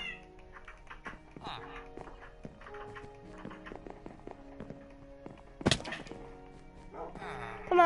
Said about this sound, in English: that cat's over here.